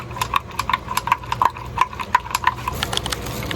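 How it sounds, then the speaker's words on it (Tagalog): A spoon stirs hot water into instant coffee in a cup, a series of bright, evenly spaced clinks against the sides, close and fairly loud, with no talking. "After natin ng tubig, haluin natin."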